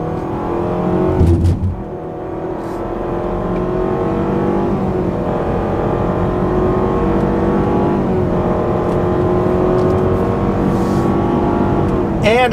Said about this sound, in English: Let me do another quick pull here on a freeway on-ramp.